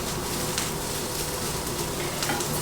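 Spinach fries in a pan, curling and drying into little bits, giving a steady close crackling sizzle throughout with no talking.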